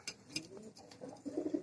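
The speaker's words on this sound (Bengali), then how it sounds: "কবুতর দেখতে ভালো, কিন্তু এদের ব্যবহার আসলে এত খারাপ" Gribaj pigeons coo close by, with a few soft calls early on, then a rolling burst of three or four throaty coos toward the end.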